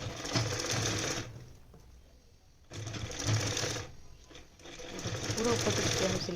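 A sewing machine runs close and loud as it stitches a palazzo pant. It buzzes in three bursts of rapid stitching separated by brief pauses, and a voice speaks faintly in the gaps.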